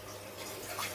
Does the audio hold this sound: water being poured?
yes